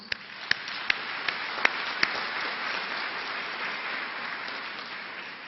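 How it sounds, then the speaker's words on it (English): Steady applause from guardians and parents filling a hall at a university autumn graduation ceremony, a dense even patter with a few sharper claps standing out near the start, moderately distant and continuing unbroken throughout. "please give yourselves a round of applause"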